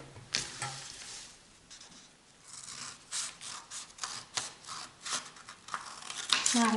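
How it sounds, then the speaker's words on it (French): Scissors snip out a rosette shape, producing soft, close cutting and rustling sounds in small irregular strokes, quiet throughout. "Donc je vais venir couper"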